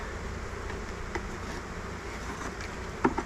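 Honey bees buzz steadily around an open eight-frame hive during an inspection, a close, continuous drone with individual bees passing near and a brief knock near the end.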